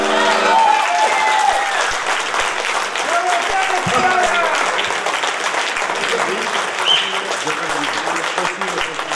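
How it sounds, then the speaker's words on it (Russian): Loud applause after a birthday concert: a large audience claps continuously and densely throughout, with a voice speaking over the ovation. "А наградой за такой подарок были цветы и громкие аплодисменты."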